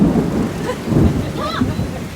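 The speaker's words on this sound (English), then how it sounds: "All that rain come off the top of the thing." Rain pours down with rumbling thunder, a loud continuous wash of drops under low rolling booms, and faint voices in the background.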